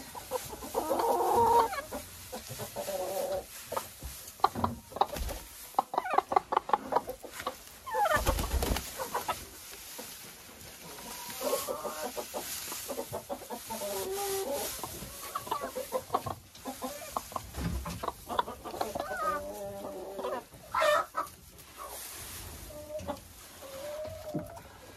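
Laying hens kept on coarse oat straw mixed with grass cluck and murmur in a dense, continuous flock chorus, with sharper individual calls rising over the steady clucking throughout.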